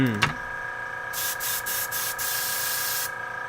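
A small airbrush air compressor runs with a steady tonal hum, joined by bursts of spraying hiss in the middle, and a short voice is heard at the start.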